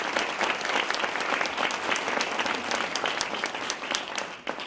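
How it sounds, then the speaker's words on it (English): Audience at a literature club gathering applauds, a continuous, moderately loud patter of many clapping hands with scattered sharper claps, steady for several seconds. "Let's just give them a good applause for all of these people."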